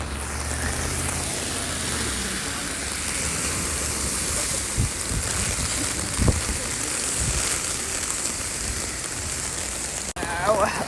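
Rain falls steadily during a winter storm in California, a continuous dense hiss of drops on the ground and surfaces outdoors, with a passing car and a few faint sounds beneath it.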